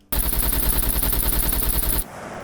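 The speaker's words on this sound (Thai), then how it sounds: "นี่ก็จะเป็นบ้านเลเวล2นะครับ ก็เดี๋ยวลองยิงเลยครับ" Rapid automatic gunfire inside a level 2 house in the SCUM survival shooter game, a loud continuous burst of about two seconds that cuts off abruptly.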